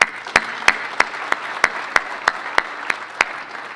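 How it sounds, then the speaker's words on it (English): Newly elected county commissioners at a conference applaud themselves, a room full of clapping with about a dozen sharp, evenly spaced loud claps standing out above the softer patter. "Let's give yourself a round of applause."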